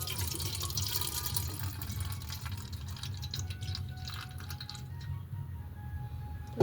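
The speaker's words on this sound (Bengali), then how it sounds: "জলটা ফেলে দিলাম।" Water is poured out of a cooking pot in a steady, continuous rushing stream lasting several seconds, ending with a brief clunk.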